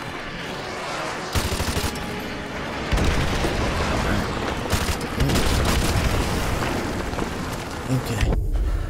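Airstrike explosions in the video game Modern Warfare Remastered, a dense roar of booms and crackling blasts that rolls on without break, loud and close, with heavier bursts at intervals.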